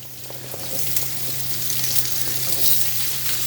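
Food toasts in a hot pan with a steady, close sizzle and crackle that holds evenly throughout, over a low constant hum.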